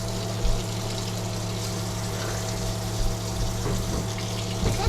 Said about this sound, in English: I'm going to turn my hot water on.